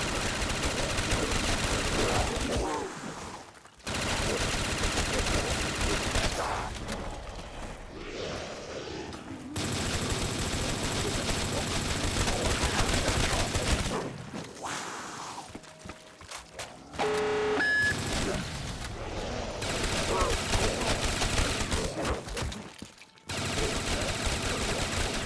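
MG36 machine gun fire in a shooter video game: repeated loud rapid bursts with short pauses between, sustained over about twenty-five seconds.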